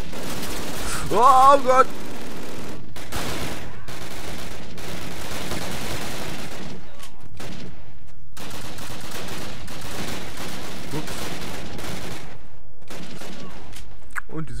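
Gunfire crackles in Call of Duty, repeated bursts and scattered shots through a noisy battle, while a player briefly exclaims early on.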